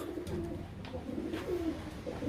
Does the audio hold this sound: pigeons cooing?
yes